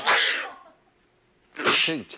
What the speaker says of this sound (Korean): 아우, 예, 이런 재채기.